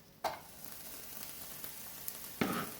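Garlic and onions hit a hot pot, with a sharp sizzle bursting up at the start and again near the end over a low, steady frying hiss, quiet and close, without talk.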